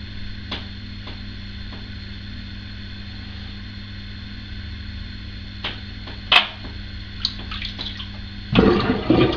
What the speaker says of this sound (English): Sorry about running the water and draining this. I know it's loud.